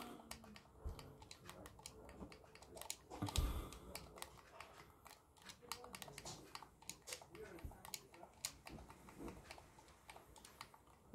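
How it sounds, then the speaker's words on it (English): Someone types a search on a computer keyboard, producing a quiet series of quick, irregular key clicks with a louder tap or two partway through. "So let's type in Destruction."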